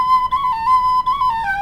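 A penny whistle plays a quick turn ornament, stepping up, down and back around a held tone, clear and close with no talking.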